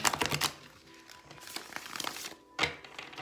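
Papery crinkling and flicking bursts as a tarot card deck is shuffled close by, in uneven, sticky clumps with short pauses between riffles.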